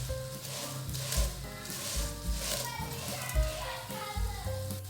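Vermicelli (seviyan) frying in a pan over low flame, a soft continuous sizzle with occasional stirring scrapes, faint, with children's voices chattering in the background.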